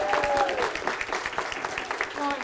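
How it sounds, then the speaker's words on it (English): A school Christmas assembly crowd cheers and claps as girls raise an FA Cup trophy, a close burst of rapid, uneven hand claps layered over excited shouts that stays loud the whole time. "you're going to raise up and the crowd will go wild"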